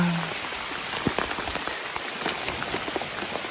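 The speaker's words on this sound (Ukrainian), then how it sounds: "Жесть, який дощ." Heavy rain pours steadily, a dense hiss with scattered drops pattering on a nearby surface, no voices.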